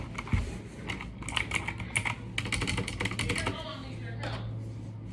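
Rapid typing on a Motospeed CK61 mechanical keyboard with blue switches, a dense run of sharp clicky keystrokes close up, with a steady low hum underneath and brief pauses between bursts.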